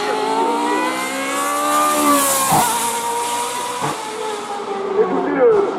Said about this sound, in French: moteur V4